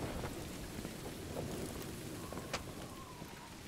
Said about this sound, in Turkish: Yağmur yağmaya başladı.